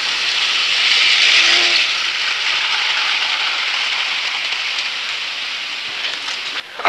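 A model train runs steadily along its tracks while changing tracks, with a continuous bright whirring rumble, close by and fairly loud, with a small click near the end.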